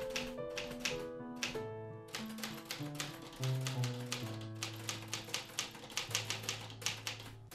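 A manual typewriter is struck in a quick, uneven series of crisp key taps over a soft bed of sustained melodic music. The clacks are close and grow sharper and more regular toward the end, with no one speaking.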